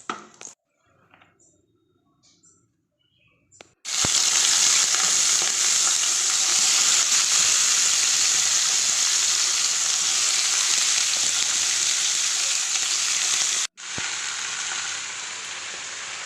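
Salted vegetables for shukto drop into hot oil seasoned with chillies and a bay leaf, setting off a loud, steady sizzle after a few quiet clinks. The frying hiss runs on unbroken, with a brief cut near the end before it resumes.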